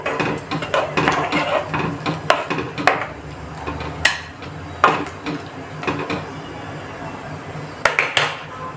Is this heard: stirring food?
yes